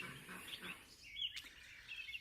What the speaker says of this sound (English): all the birds singing and happy things